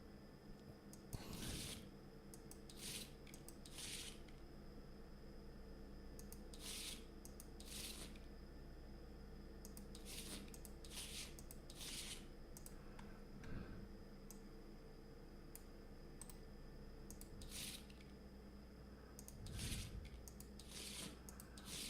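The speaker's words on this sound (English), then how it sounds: "Let's shuffle these and see if any blight comes up." Eldritch Horror game cards are shuffled in a quiet room, producing repeated short riffling and rubbing bursts spaced irregularly over about twenty seconds, close and soft.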